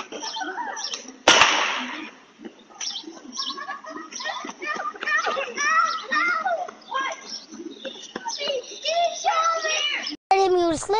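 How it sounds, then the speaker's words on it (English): A single sharp gunshot cracks loudly near the start on a residential street on a Saturday afternoon, where a young boy is shot; children's voices and chatter continue around it, with another abrupt bang near the end. "You'll see kids playing, hear a gunshot, then Kobe realizes he's hit"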